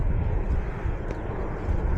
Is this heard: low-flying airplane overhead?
yes